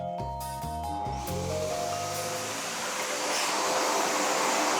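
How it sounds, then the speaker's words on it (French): A vacuum cleaner whirs up and runs with a steady, loud rushing hiss, after a few brief tonal notes at the start. "un dernier coup d'aspirateur et tout y passe"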